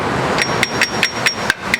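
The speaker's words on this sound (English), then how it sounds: "he's just beating that rotor." A hammer strikes a car brake rotor in a workshop with sharp metallic clangs, about eight blows coming at a steady, slightly uneven rhythm, close and clear.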